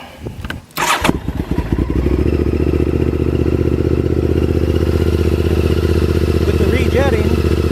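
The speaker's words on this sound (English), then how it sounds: "So anyway, I will start it up" 2000 Honda VTR 1000 Super Hawk 996 V-twin, rejetted and started cold with the choke on, cranks with a few clattering thumps and then catches into a loud, steady, throbbing idle close up.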